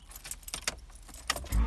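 Keys jangle in a close series of light metallic clinks as they go into the ignition of a 1992 Honda Accord, and the engine's low crank catches right at the end.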